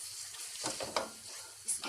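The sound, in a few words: beef frying with onions in karahi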